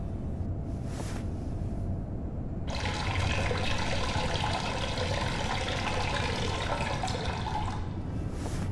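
In the video game Fahrenheit Remastered, a character urinates into a toilet: a steady trickling stream of liquid splashes into water, continuous and fairly close over a low background hum, with no talking.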